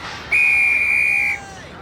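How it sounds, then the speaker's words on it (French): A referee's whistle blown once for kickoff in a street football match, a single sharp shrill blast held for about a second, loud and close over faint crowd murmur. "J'ai sifflé l'engagement."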